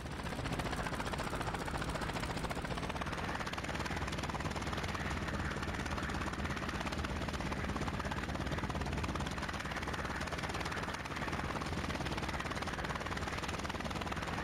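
Aircraft engines drone near a runway in the IL-2 Sturmovik flight game, a continuous loud rotor-like hum that holds steady throughout with no talk.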